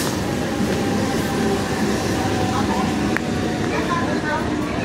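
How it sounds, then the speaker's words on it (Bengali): A train pulling into a station, a loud continuous rumble with rattling and squealing, a brief sharp clank partway through, and a crowd murmuring and voices in the background. "ট্রেনটা এখন ঢুকছে।"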